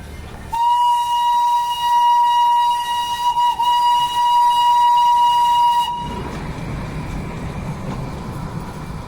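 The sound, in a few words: toy train steam whistle and running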